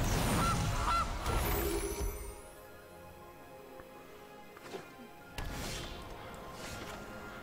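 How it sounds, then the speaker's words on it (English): Honking goose calls sound in the MTG Arena video game, loud at the start and then fading into quieter game effects with a few whooshes and thwacks. "Goose."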